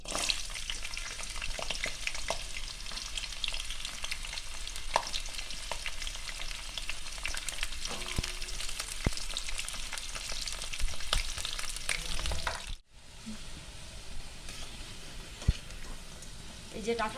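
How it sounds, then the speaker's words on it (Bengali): Vegetable stalks fry in hot oil in a pan, producing a steady, bright sizzle with occasional stirring clatter, close and constant before a brief drop near the end. "ডাঁটাটা ভেজে নেব এই যে ডাঁটাটা"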